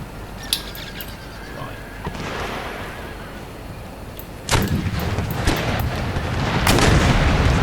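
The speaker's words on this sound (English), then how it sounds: "Yeah, the cannons are firing into the walls." Heavy booms of cannon fire in the video game Empire: Total War going off repeatedly amid a dense battle din, growing louder and busier toward the end.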